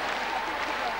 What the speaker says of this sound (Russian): Практически овация.